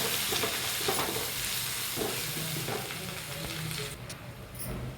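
Green chillies and curry leaves frying in oil, a steady broad sizzle throughout with occasional stirring scrapes, close and fairly loud, with no voices.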